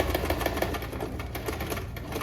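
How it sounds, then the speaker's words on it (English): A domestic sewing machine stitching over zipper teeth while making a drop-waist dress, a fast, steady mechanical whirring with rapid needle clatter and faint irregular ticks, close and unbroken, with no talk. "So just sew over the zipper teeth."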